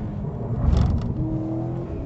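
A 2015 Subaru WRX STI engine revs high on a racetrack, a loud, steady throaty drone from inside the car that swells briefly near the start and holds through two seconds.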